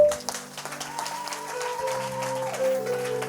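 A church congregation applauds and cheers in praise during an evening worship service, a steady patter of clapping mixed with crowd voices and sustained keyboard tones.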